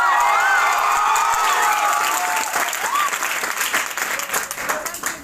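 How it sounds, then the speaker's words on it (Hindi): An audience at a stage event claps and cheers for a police officer guest, steady loud applause with scattered shouts and whoops, gradually thinning out toward the end. "जो आप तालियां मेरे लिए बजा रहे हो"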